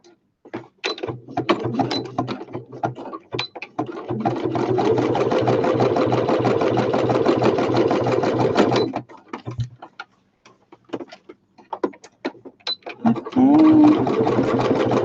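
A sewing machine stitching fabric for a sewing machine cover, heard as a loud, rapid mechanical whir in a long steady run, with short bursts before and after and a voice talking between them.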